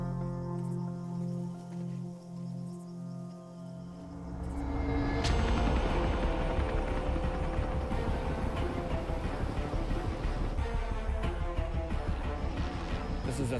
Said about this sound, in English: This is the third chopper coming in.